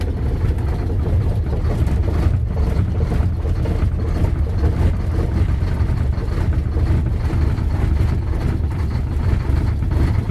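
A truck engine labours on a cold morning, giving a loud, steady low rumble that struggles to keep running, with wind noise over the microphone and no talk.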